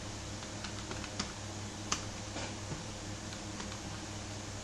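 Quiet typing on a computer keyboard in a computer class, with soft scattered key taps over a steady hum of room noise.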